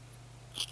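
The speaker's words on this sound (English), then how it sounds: "So we're going to cut that off." Scissors snip crochet yarn for a spiderweb hat, a single quiet cut near the end of a short, hushed moment with a faint steady hum beneath.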